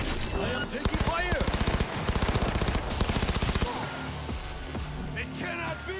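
Rapid automatic gunfire in Cyberpunk 2077 rattles in long, loud, evenly spaced bursts, then gives way to layered combat noise while a voice speaks over the game.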